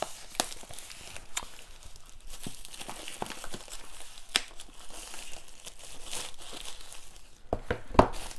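Plastic wrap on an Arrow Video limited-edition box set is ripped open, giving close, crisp crinkling and tearing bursts with a few sharper snaps near the end.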